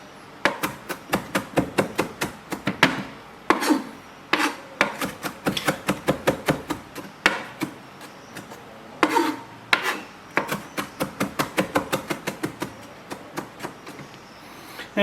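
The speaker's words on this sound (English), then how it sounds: "So this is just going to be a quick mince." A knife minces raw beef on a board for Belgian filet americain tartare, giving close, crisp, rapid rhythmic taps in bursts separated by short pauses.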